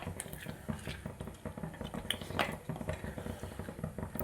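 Chopped coriander is stirred into matar paneer in a pan, a steady run of soft scraping and clinking from a utensil against the metal, quiet and close with no voices.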